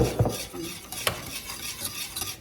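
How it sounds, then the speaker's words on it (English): A utensil scrapes and clinks around the bottom of a pot of thickening gravy in an uneven stirring rhythm, with a few sharper taps against the metal. "stirring so it gets thick."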